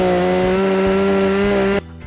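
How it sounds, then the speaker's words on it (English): A loud chainsaw drones at steady high revs while pruning tree branches, then cuts off abruptly near the end. "Some of those chainsaws can get really loud."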